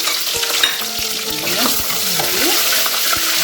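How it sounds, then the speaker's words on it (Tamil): Ingredients hitting hot coconut oil for a Sri Lankan beef curry sizzle loudly and steadily, with a spoon scraping and clinking against the pan several times as they are stirred. "இப்போ எண்ணெய் வந்து நல்லா சூடாகிடுச்சு அதனால் நம்ம இதெல்லாம் இதோட சேர்த்துக்கணும்"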